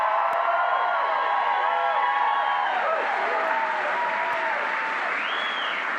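Steady, dense applause from a large crowd at a political rally in Bangor, Maine, with a few whoops and shouts rising over the clapping.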